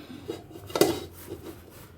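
A cake pan flipped over onto a plate at home, giving one sharp clatter of metal against crockery amid quieter rubbing and light knocks.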